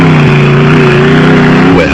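A Motortech Raceco off-road race car on its first outing holds a loud, steady, close engine drone with a sustained high rev and a slight pitch shift near the end.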